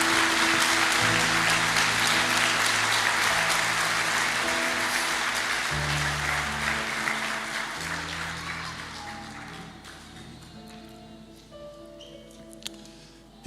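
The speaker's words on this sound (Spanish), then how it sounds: "Si le va a dar un aplauso al Señor," A Sunday church congregation claps in a dense burst of applause that gradually thins out and fades over several seconds, with sustained musical tones underneath and scattered final claps at the end.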